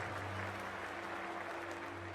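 A cricket stadium crowd at an IPL match between KKR and RCB cheers and claps at the opening ball, a dense continuous wash of applause from a large distant crowd with a faint hum underneath.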